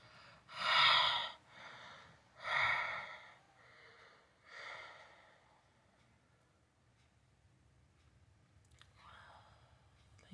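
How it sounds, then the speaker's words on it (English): Heavy breathing as a spooky sound effect in a scary story: several loud, slow, raspy breaths in and out, close to the ear, fading to quieter breaths and near silence. "suddenly, the breathing got louder."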